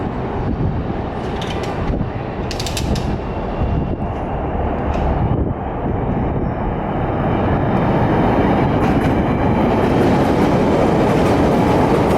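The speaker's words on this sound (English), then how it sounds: "Four cars feels very short for a train on the L." Chicago CTA Pink Line 'L' train of four cars running, a loud constant rumble and roar with scattered high metallic squeals and clacks that builds a little toward the end.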